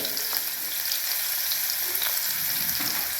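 Mustard seeds and cumin crackle and sizzle in hot oil, a steady close hiss dotted with small pops and faint stirring, with no voices.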